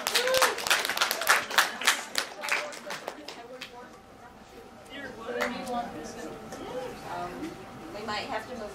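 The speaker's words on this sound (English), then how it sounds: "Give them applause." Applause from a convention panel audience, a burst of clapping that fades after a few seconds into low crowd murmur and scattered voices.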